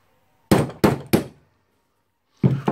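A part is punched out of a Makita HR2470 rotary hammer in three quick, sharp metallic strikes close by, then a pause and one more hit.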